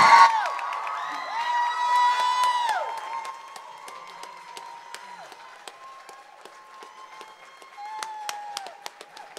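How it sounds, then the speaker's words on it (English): Applause for Ms. Opal Lee at a Black History program in a high school auditorium, starting loud with a brief cheer and fading over several seconds into scattered clapping under a lingering ring. "Let's give her another round of applause, please, for coming out and being with us this evening"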